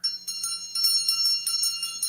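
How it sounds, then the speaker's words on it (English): A handheld bell rings in repeated bright strikes, several dings in quick succession with ringing tones that carry between hits, set a little back from the microphone and heard alone. "I did move the bell away from the microphone this time as to not blow people's ears out with bing, bing, bing"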